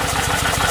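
Kawasaki Vulcan 1500A motorcycle engine running steadily just after starting, a continuous low rumbling idle with a regular pulsing throb, close and fairly loud, no voices.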